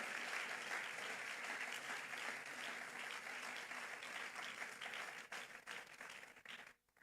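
A church congregation applauds together in a dense, steady burst of clapping that fills the space, then thins out and fades away over the last couple of seconds.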